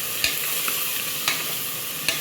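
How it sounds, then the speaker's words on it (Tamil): Onions sautéing in a pan for a dhalcha kuzhambu hiss with a steady close sizzle, punctuated by about four sharp scrapes of a spatula stirring against the pan. "நல்லா வதங்கட்டும்"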